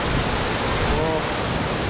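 Deojhar waterfall near Cuttack, Odisha, sends a heavy flow of water crashing down in a loud, constant broadband roar that fills the whole moment without pause.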